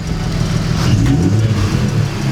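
A BMW E46 with a blown head gasket revs, its engine giving a loud, close, steady drone that swells slightly mid-way, with no voices over it.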